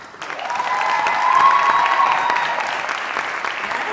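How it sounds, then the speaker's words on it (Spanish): Audience applauds Patti Cantú, a full, even burst of clapping that swells and holds steady with light cheering, close and loud throughout. "también les queremos pedir un fuerte, fuerte aplauso para mi querida amiga Patti Cantú."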